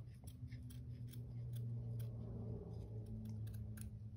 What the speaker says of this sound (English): I'm going to cut around my base.